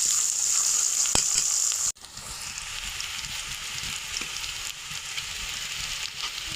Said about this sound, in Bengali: তেজপাতা দিব পেঁয়াজের মধ্যে ভাজার জন্য